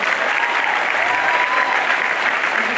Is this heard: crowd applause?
yes